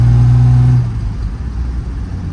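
A car in fourth gear with an overdrive problem, its engine giving a loud steady hum that drops after a moment into a rougher, fainter running drone, close by.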